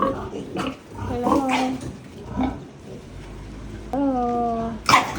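Pigs weighing around 150 to 200 kilos grunt and squeal in a farm pen, with a long tonal squeal near the end, while a person speaks among them.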